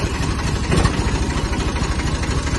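Cold diesel engine of a Massey Ferguson 240 S tractor idling close by, a loud, steady low rumble with fast even knocking pulses and no talk.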